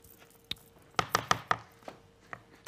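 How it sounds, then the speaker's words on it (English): Parsley being stirred into cream cheese in a bowl while making savory biscuits, heard as a short run of close, sharp clacks and scrapes, four quick ones clustered together, then a few fainter taps, with no talk. "Now stir the parsley into the cream cheese."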